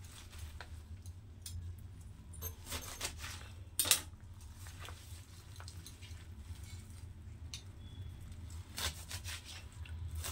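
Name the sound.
chopping jute leaves into small pieces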